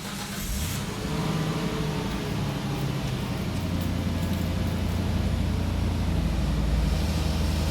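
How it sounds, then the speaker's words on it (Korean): A car engine that gives off white smoke at a cold morning start cranks and catches, then settles into a loud, steady idle rumble. "시동 걸어보세요"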